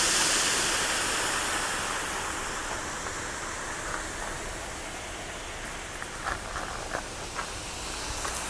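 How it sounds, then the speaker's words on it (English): Steady running and splashing water from a small koi pond at a golf course, a constant broadband wash heard alone at moderate level, with a few faint clicks and taps near the end. "There's a little koi pond."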